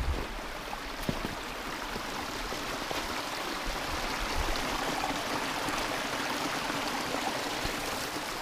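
A stepped stream flows through the woods, giving a steady, close rushing and splashing with small gurgles throughout and no talking.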